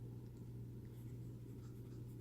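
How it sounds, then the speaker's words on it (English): A pen writes across a page of a ZOhulu erasable notebook with a very faint, soft scratching, nearly buried under a steady low background hum. "we're gonna write another page"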